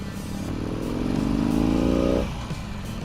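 A 2016 Harley-Davidson Roadster motorcycle engine revs up in one loud, close surge that climbs for about two seconds and then drops sharply back toward idle.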